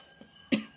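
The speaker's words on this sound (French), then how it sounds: "Là, je tousse là subitement." A single short cough, close by, rising out of a quiet room after a brief pause.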